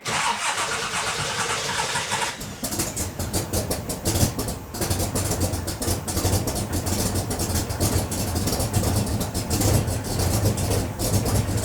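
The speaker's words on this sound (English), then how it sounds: "We'll give it a few seconds to prime, and then we'll give her a start." A stone-cold Shelby Cobra with no choke cranks briefly, then catches and fires into a loud, rough, uneven idle that keeps running steadily throughout.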